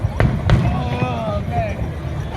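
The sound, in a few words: fireworks show at Brighton Beach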